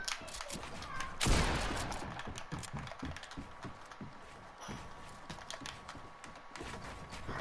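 Gunfire in a one-on-one video game match: one sharp, loud shot early on, then a running patter of quieter clicks and pops, with a voice faintly in the background.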